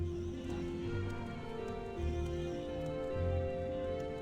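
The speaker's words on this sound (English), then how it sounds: "like it's like a mixture of whinnying of like a horse, and then like a pig, like squealing of a pig or something" Horse-like whinnying and pig-like squealing from a creature in the game Morrowind, a low continuous rumble of snorts and hooflike clopping that swells twice, over steady ambient game sound.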